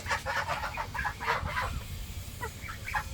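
A chicken clucks repeatedly up close in short, quick bursts, its soft throaty calls continuing steadily over a low background rumble.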